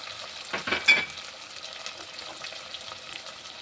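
Curry leaves crackle briefly in hot oil with a quick burst of spattering sizzle, fading into a faint, steady fry, quiet and close.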